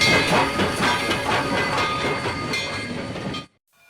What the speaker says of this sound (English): Here we see Missouri Pacific locomotive number 2644 doing the somber honors of ferrying the last train.